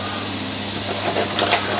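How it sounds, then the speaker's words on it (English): Tomatoes sizzle in seasoned oil on a grill, a loud, steady, close hiss that runs unbroken with no voices. "Fantastic sizzle."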